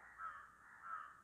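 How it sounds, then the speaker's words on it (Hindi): A crow caws twice, each call a harsh drawn-out croak, the pair spaced about half a second apart, moderately near and alone against a quiet background. "देखो कौवा"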